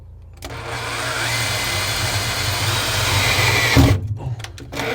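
Power-tool work while riveting a seal onto a BMC 1.5 engine during a narrowboat conversion: a steady mechanical whir runs for about three and a half seconds, then stops with a thump and a few brief knocks, with no voices.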